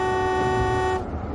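A single sustained car horn blares loud and close for about a second, then cuts off abruptly, leaving low rumbling background noise.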